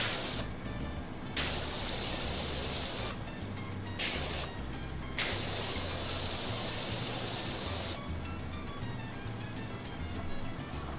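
Soap spraying from a pressure washer in PowerWash Simulator 2, a steady loud hiss that starts and stops in several bursts of a second or a few seconds, with a low electronic hum underneath and no talking.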